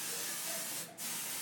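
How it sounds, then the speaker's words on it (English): Strong-hold hairspray sprayed onto curly hair in one continuous close, steady hiss with a brief dip near the end. "I like to use the air control or the control force hairspray, which is a really strong hold, and I'll kind of spray it"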